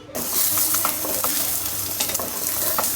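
An egg frying in a pan sizzles steadily at close range for a hurried breakfast, with scattered clicks and light scraping taps over the continuous crackle.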